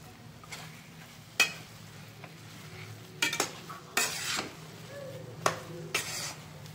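Mung dal halwa being stirred in a pan with cardamom powder, a spoon scraping and clinking against the metal in a few sharp strokes over a low, steady background hiss, with no voices.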